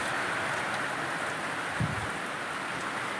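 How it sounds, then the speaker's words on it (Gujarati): Heavy rain pours down in a continuous broad hiss, with one brief low thump partway through. "હવે તમે જોઈ શકો છો બારીશ કેવી જોરદાર આવી રહી છે"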